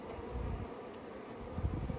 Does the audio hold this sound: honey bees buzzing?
yes